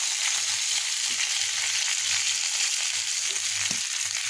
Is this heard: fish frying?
yes